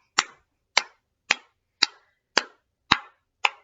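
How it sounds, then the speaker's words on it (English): Seven sharp hand claps at a steady, even pace about half a second apart, close and crisp, led by a children's story-time host with no talking over them. "And let's all clap."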